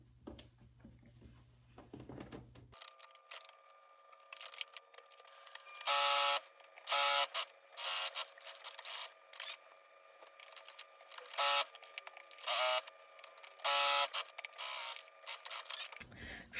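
A sewing machine runs a straight 2.5 mm seam joining the front and back of a tunic, in several short, close bursts of whirring motor with brief pauses between and a faint steady hum underneath; no one speaks.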